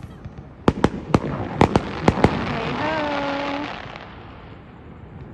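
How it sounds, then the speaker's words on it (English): Fireworks going off in China: a rapid string of sharp, loud bangs and crackles in the first half, then a whistling, rising tone and a fading rumble, with a voice briefly calling out over the noise. "We don't need a reason for fireworks in China."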